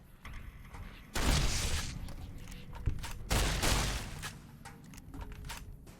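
Gunfire rips out in Fallout New Vegas as a gecko is targeted: two loud, rapid bursts of close shots, each trailing off into a scattered rattle before quieter mechanical clicks.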